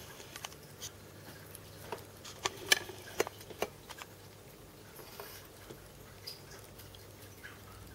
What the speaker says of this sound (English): the background noise is from the fish tank